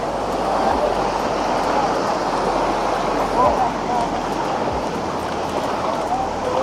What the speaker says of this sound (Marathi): आता पाणी वाहतं आहे भरपूर आता ह्या पाण्यातून आपल्याला वाट काढायची